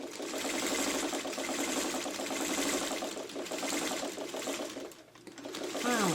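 Sewing machine top stitching appliqué circles runs with a rapid, steady mechanical chatter at close range, easing briefly near the end before picking up again.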